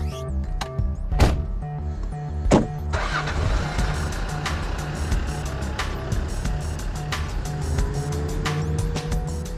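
Two loud thumps as car doors shut, then an engine starts and settles into a steady running hum as the car pulls away, heard from inside.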